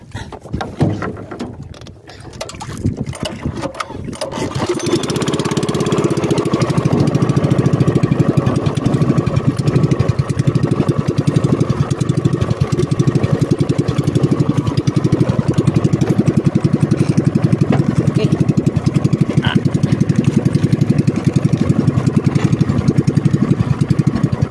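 A boat engine out on rough sea sputters and cranks for a few seconds, then catches and settles into a loud, steady, close idle that runs on alone.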